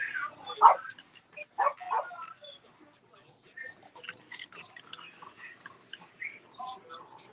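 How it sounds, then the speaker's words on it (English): A dog barks excitedly in a few sharp, scattered bursts, followed by softer, sporadic noises and faint talk in a quiet room. "Dog going crazy."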